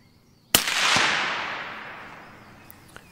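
A single sharp suppressed rifle shot at a young wild boar cracks out, followed by a long, fading rumble of echo; a faint second short report comes near the end.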